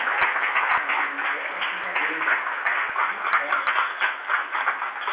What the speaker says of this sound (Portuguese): Vamos aplaudir mais forte.